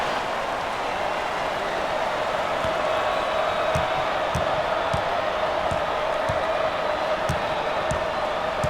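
A basketball arena crowd in the NCAA Basketball 10 video game chants steadily in a dense, continuous roar, with faint ball bounces and squeaks cutting through.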